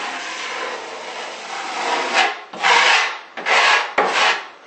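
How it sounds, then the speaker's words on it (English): Scraping excess off the top of fresh shower tile work, a steady rasping rub that swells into three louder, closer strokes toward the end, with no voices. "I'm going to scrape off the top because it's been sitting there a while."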